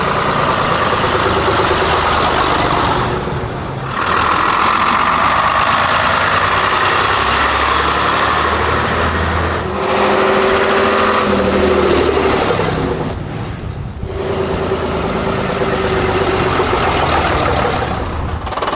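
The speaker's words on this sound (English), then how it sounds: "Listen closely to the tone of the engine on the next 4 drive-bys" An AEC Routemaster London bus engine rumbles through several drive-bys, its heavy note rising as the bus nears and fading away between passes, loud and close throughout.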